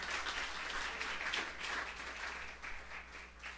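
A church congregation applauds, a dense, sustained wash of many hands clapping at moderate distance, steady throughout with no pauses.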